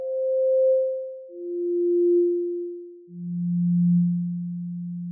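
Three pure, steady sine tones of a note's harmonics play one after another, each lower in pitch than the last, smooth and electronic with no other sound.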